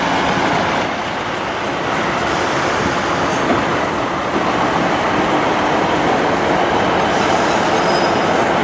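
Class 158 diesel unit 158.820 pulling into Cardiff station, a steady loud rumble of wheels and engine with faint rail squeal, continuous throughout with no talk.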